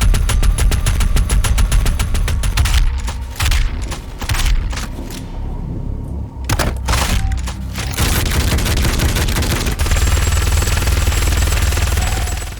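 Weapons in Doom Eternal fire loud and close: rapid automatic bursts give way to heavy booming single shots, then a dense, continuous roar of gunfire with deep rumbling low end.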